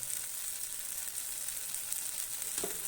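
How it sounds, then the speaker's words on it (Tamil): Mustard seeds in hot sesame oil, a steady hissing sizzle with faint crackles throughout, close by and moderately quiet, with no talk. "ஊற்றிட்டு கொஞ்சம் கடுகு போட்டுக்கிறேன்"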